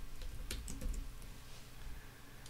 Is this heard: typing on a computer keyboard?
yes